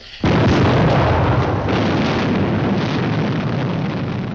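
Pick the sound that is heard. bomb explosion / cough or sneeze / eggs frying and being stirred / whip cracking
bomb explosion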